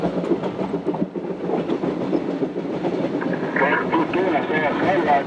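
A train rolls along its rails with a continuous rumbling clatter and rhythmic clickety-clack, with a voice talking over the running noise throughout.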